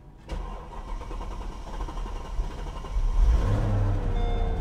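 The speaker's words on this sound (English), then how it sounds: "Car starts." A Mercedes SL500 bought from a salvage auction cranks and fires up, a sharp start followed by a rough mid-pitched idle that swells louder as the engine catches and revs slightly near the end.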